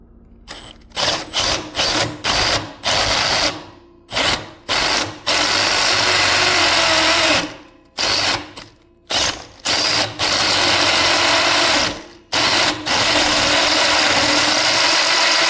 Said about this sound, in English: I'll end up drilling this out to 5/8